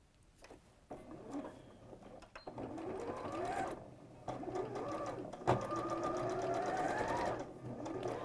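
A home sewing machine runs in bursts of rapid, steady stitching through dressmaking fabric, close and fairly loud, with short pauses and light handling clatter between runs.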